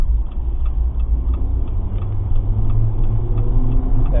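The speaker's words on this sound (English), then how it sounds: "That pickup truck" A pickup truck passes close by on a road, a loud low rumble of engine and tires that holds steady over a few seconds, with faint ticking on top.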